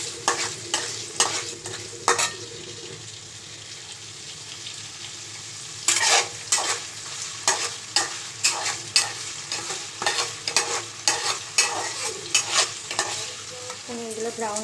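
Paneer frying in white oil and butter with salt in a kadai, a steady sizzle broken by rapid rhythmic stirring scrapes, close and loud, with a quieter pause midway.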